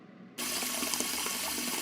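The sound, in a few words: water flooding a school, cartoon effect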